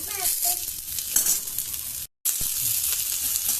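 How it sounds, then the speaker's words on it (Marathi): Onion, tomato and chilli fry in a pan with a steady broadband sizzle that runs throughout, broken by a brief dropout near the middle, with faint background voices. "कांदा आणि टोमॅटो सगळं भाजून घ्यायचं।"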